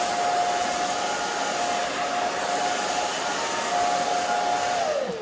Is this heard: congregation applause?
no